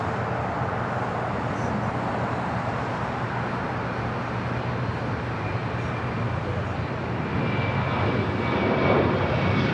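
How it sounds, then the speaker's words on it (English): A Southwest Airlines Boeing 737-700 jet arrives at LAX, its engines a steady broad roar that swells slightly toward the end, with faint voices beneath. "That is Southwest Airlines flight 2313 coming in from Dallas Love Field at a 737-700."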